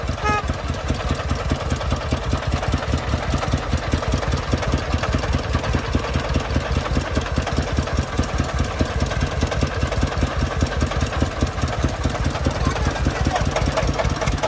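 Công nông agricultural truck from Vietnam, laden with sand, chugs along a muddy road with its diesel engine knocking in a steady, rapid rhythm. The sound is loud and close, continuous throughout, and no speech is heard.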